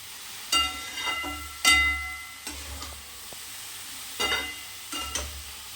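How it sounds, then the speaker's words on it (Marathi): Chopped spring onion greens with moong dal stir-fried in a pan, with several short bursts of sizzling and scraping as the greens are stirred, separated by quieter pauses, no talking. "आता ही कांद्याची पात टाकून घेणार आहे त्याच्यात. थोडंसं हलवून घेते"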